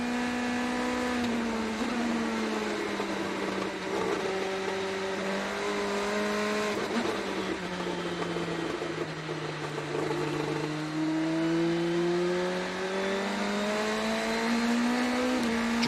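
An INDY NXT race car on slick tires laps a damp circuit at the Alabama Grand Prix, its engine a steady high-pitched drone that sweeps up and down with throttle, continuous and loud throughout.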